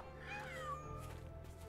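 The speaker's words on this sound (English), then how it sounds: "Proud little kitty." A cat meows in the Sherlock Holmes: The Awakened video game, a single drawn-out, wavering mew over a steady low game ambience.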